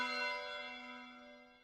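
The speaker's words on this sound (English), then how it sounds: "The nearby church was ringing its bell." A nearby church bell in the visual novel Ef: The Latter Tale rings a single sustained, resonant stroke that slowly fades, with no other sound.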